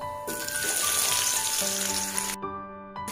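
Cumin seeds and onion sizzle in hot oil in a home kitchen pan, a steady close, bright frying hiss that runs unbroken and drops away near the end, with no talk over it.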